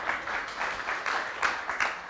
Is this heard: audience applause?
yes